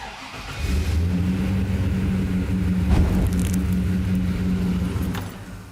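A car engine idles steadily up close with a new intake manifold in place of a sheet-metal one, turning over with an even, smooth hum for about five seconds before cutting off.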